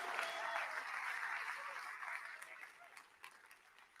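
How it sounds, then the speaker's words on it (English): Jazz-hall audience clapping in a dense burst that starts full and gradually thins and fades over a few seconds, with scattered individual claps near the end. "Please give yourselves a round of applause for leaving the house."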